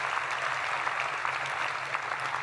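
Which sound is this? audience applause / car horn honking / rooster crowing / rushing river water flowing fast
audience applause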